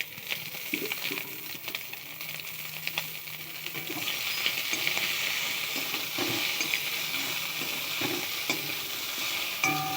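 Pieces of kuche fish (eel) sizzle and spatter steadily in a hot pan, with occasional stirring scrapes, and the frying grows louder midway through.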